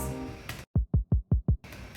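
Layered kick drum from a beat, heard as five evenly spaced, deep, booming hits in isolation, framed by brief bursts of other sound before and after.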